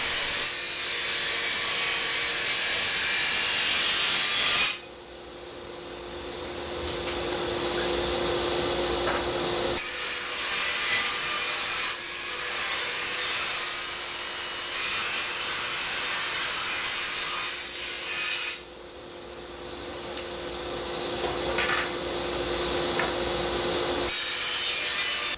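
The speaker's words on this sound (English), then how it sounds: "I'm ripping them on the table saw." Table saw ripping slats lengthwise from a 2x4 board, a loud steady whine with blade hiss through three long cuts separated by brief drops, each pass running about five to ten seconds.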